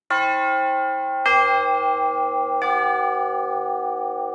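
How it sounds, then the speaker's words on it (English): Three virtual orchestra tubular bell strikes, spaced slowly apart, each ringing loud and full with a long shimmering sustain that overlaps the next. "Tubular bells."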